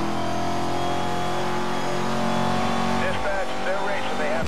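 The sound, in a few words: car drifting around corner in Need for Speed Most Wanted video game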